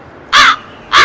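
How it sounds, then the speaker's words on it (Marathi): A crow caws twice near a newly owned house, each loud harsh call standing alone with a short quiet gap between. "कावळा येतो."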